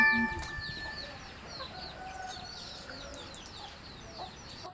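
Chickens calling and clucking in an outdoor yard during flooding in Nakhon Si Thammarat, southern Thailand, soft repeated bird sounds at moderate distance over steady background noise.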